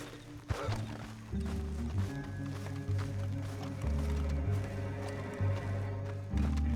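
Horse hooves clatter and a horse whinnies in Red Dead Redemption 2 over a low, dramatic musical score, with brief scattered noises in the mix.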